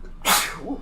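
A single sharp sneeze erupts close to the microphone, loud and abrupt, with a brief breathy tail.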